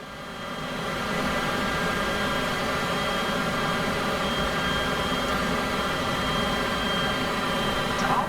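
Twin jet engines of a Cessna CJ4 business jet in Microsoft Flight Simulator 2024 spool up from a low start into a loud, steady roar with a high whine on top, holding constant for several seconds with no talking.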